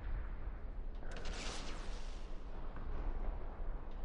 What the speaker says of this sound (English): there's a lot of gunfire over there